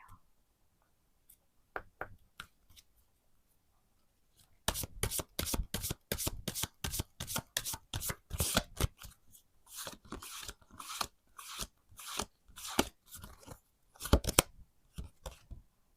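After a few quiet seconds, a deck of tarot cards is shuffled in quick, sharp riffling bursts that repeat in a steady rhythm, close and crisp.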